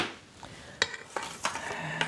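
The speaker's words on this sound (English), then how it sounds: "Now I spoon it into my loaf pans." Banana bread batter is spooned into mini loaf pans in a home kitchen, giving a few light clinks and scrapes of a spoon against the pans, close and faint, with no speech.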